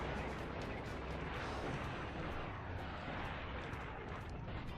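Dense, continuous roar of a video game missile swarm and cannon fire, a steady wall of rumbling blasts and crackling bursts with no clear gaps, moderately loud throughout.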